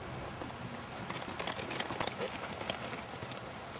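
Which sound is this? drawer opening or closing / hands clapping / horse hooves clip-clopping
horse hooves clip-clopping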